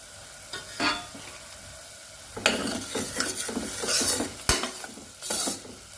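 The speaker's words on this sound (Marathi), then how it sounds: "झाकण ठेवलं की कांदा मिरची खूप लवकर होते" Onion and chilli frying in a pan on a home stove, with a soft sizzle under repeated stirring scrapes and clinks of a utensil against the pan, close and moderately loud in bursts.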